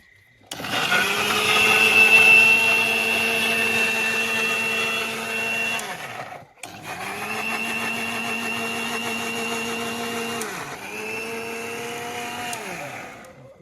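A mixer grinder blending onions with a little water for pav bhaji gravy, a loud steady whirring motor run in two long bursts with a brief stop between, then a short final burst, close by outdoors.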